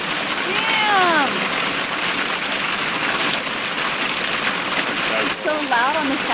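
Hail pounding loudly and steadily on a patio during a storm in Santa Maria, a dense continuous clatter throughout, with people talking excitedly over it.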